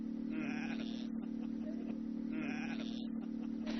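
Sheep bleat in two drawn-out calls across a wide green landscape in Xinjiang, heard over a steady low drone.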